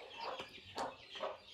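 Hens clucking on an Indian backyard poultry farm, a few short, close clucks in quick succession over a soft background.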